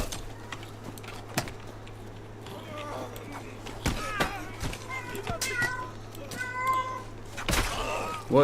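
Cat meowing indoors, several short rising meows spread over a few seconds, close and clear, mixed with occasional clicks and thumps and a faint low hum.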